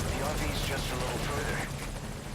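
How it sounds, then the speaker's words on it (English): Helicopter in Metal Gear Solid V: Ground Zeroes arriving, a loud rotor thrum and engine roar filling the short stretch, with a voice talking over it. "Chopper should have been here by now, honestly."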